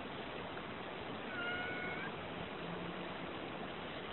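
A cat meows once in a kitchen where a carrot cake is being made, the short cry faint against a steady background hiss.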